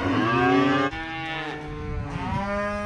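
Cattle lowing loud and close on a working farm, a long harmonic moo held for about a second, then further overlapping calls from several animals, with no talk.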